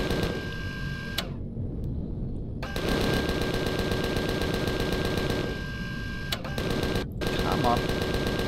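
Automatic weapon fire from mounted turrets in the survival game Empyrion, sustained and dense across most of the stretch, broken by a couple of short pauses, with a faint steady tone running underneath.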